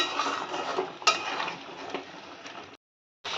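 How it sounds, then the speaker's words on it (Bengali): Paneer pieces go into a pot of boiling water, giving a soft bubbling hiss with a sharp clink of metal partway through, then the sound cuts off briefly near the end. "এবার আমি দিয়ে দেবো পনিরগুলোকে"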